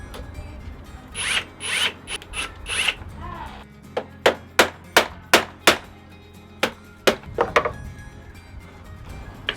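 Screws are driven to pull a steel striking plate into position while a Yale Doorman lock is fitted in snowy conditions, giving a run of sharp, evenly spaced ratcheting clicks that start after a few whirring bursts, close and fairly loud.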